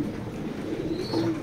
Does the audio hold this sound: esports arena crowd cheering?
no